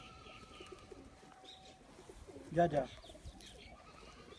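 Pigeons on a rooftop coo in a short burst of a few soft, low calls, near but not loud, against steady outdoor background noise and a faint voice.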